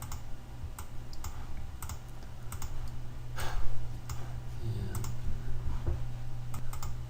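Rapid keyboard typing and scattered sharp mouse clicks, close and crisp, tap out in irregular bursts over a low steady hum.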